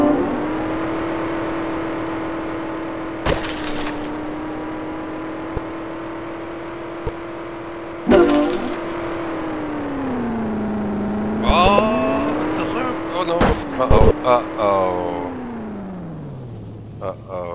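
A video-game car engine in Xulu Universe holds a steady, buzzy drone, its pitch dipping and climbing in places, with brief clacking bursts and noisy thumps breaking in toward the end.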